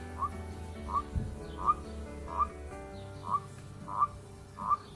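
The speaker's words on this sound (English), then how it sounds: "Mr. Frog, though, is trying to tell us, isn't he?" A garden frog croaks repeatedly, seven short even calls spaced about two-thirds of a second apart, fairly quiet and close against a calm, faintly humming background.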